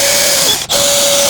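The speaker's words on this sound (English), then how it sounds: "And then I pre-drill here" A power drill whines steadily while pre-drilling holes in a wooden cabinet drawer for a small bathroom, loud and close, with a brief dip in the middle before the drill resumes.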